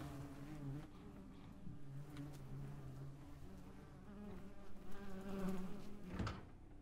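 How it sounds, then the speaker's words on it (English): Flies or bees buzz in the MiSide video game, a faint, wavering drone with pitch shifts that comes and goes, heard alone without talk. "Flies or bees?"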